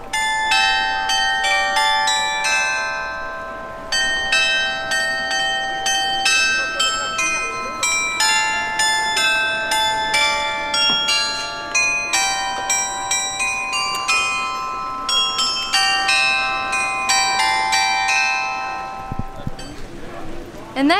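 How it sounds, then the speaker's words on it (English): Bells of the Goslar town square clock chime a melodic tune in the main square, a long run of clear ringing notes at a steady pace, with crowd chatter and voices underneath. "all those bells are gonna chime and play a little tune for us"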